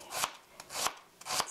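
Kitchen knife chopping garlic on a cutting board while preparing one-pot tomato fusilli, three crisp, evenly spaced chops at close range with brief quiet gaps between them.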